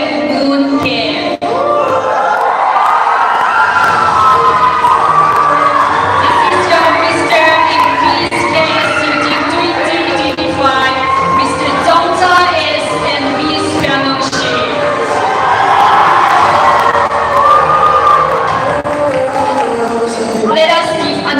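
A large crowd cheers, shouts and whoops for the newly crowned winners at a youth pageant event, loud and sustained for about twenty seconds, with voices rising and falling throughout.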